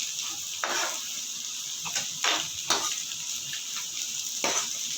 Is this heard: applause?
no